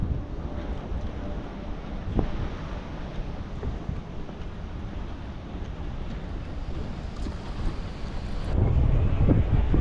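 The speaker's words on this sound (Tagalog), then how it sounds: "Sarap ng hangin dito." Strong seaside wind in Cairns, Australia buffets the microphone in a steady rumbling roar, gusting louder near the end, with no voices heard.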